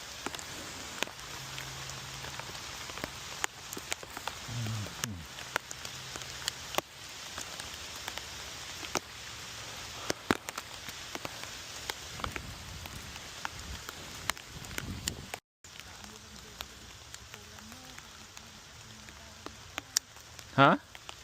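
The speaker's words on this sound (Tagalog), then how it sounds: "Lumakas na yung ulan." Heavy rain pours steadily on surfaces outdoors, a dense continuous hiss with scattered louder drops, while voices speak faintly underneath.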